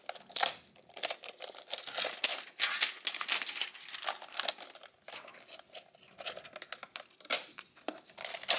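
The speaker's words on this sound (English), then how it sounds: "Let me go ahead and take it out of the plastic." An Asus Chromebox 5 is pulled from its plastic wrapping, giving close, irregular bursts of crinkling and rustling plastic with short pauses between handlings.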